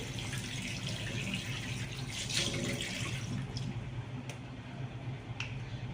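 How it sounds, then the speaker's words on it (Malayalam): A bathroom tap runs while someone washes their face, a steady continuous hiss of flowing water with a few faint splashes and snaps on top. "ആദ്യം നമ്മൾ ഇങ്ങനെ വെള്ളം തുറക്കും, എന്നിട്ട് മുഖം നന്നായിട്ട് ഇങ്ങനെ വെള്ളത്തിൽ തടവി കൊടുക്കും"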